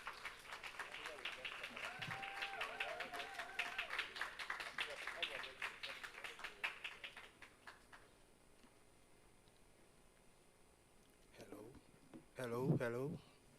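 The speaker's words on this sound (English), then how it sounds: "Round of applause for them." Audience applause at a health innovation pitch competition greets an early-stage finalist, moderate clapping for several seconds that fades out, then quiet before a voice begins speaking.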